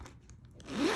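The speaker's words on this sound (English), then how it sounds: "Zipper is very smooth." The zipper on a Louis Vuitton Pochette Métis bag is pulled in one quick, smooth close-up rasp, faint short ticks leading into the louder final slide.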